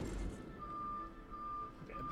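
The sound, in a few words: garbage truck reversing beeps outside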